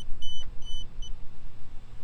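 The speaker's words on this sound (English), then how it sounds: "It's beeping, then they connect to each other" A DJI Spark drone beeps as it powers on, three short high electronic beeps in quick succession over a low background hum.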